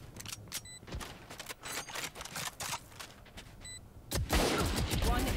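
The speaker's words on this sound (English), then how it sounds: "Apparently both players are using snipers on Remy." Sniper rifle shots and other gunfire in the Valorant video game, a handful of sharp cracks spaced through a busy mix of game effects, with a louder burst of noise near the end.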